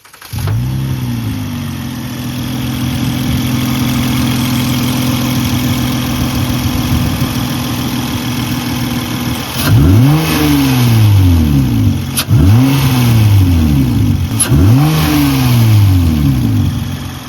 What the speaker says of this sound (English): I'll go ahead and turn on the car real quick and I'll probably give you guys a few revs on it